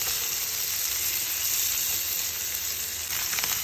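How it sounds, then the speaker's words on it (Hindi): Small fish pieces frying in hot oil, a loud dense continuous sizzle that holds steady throughout. "इसे बढ़िया तरीके से हम फ्राई करेंगे।"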